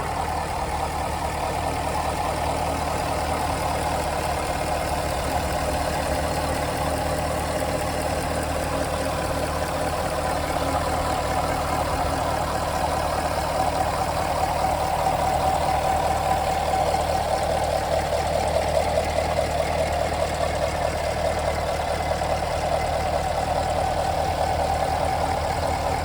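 A 2023 Chevy Camaro 1SS convertible's pushrod V8 idles steadily up close, a continuous low rumble with a slight swell toward the end and no voices.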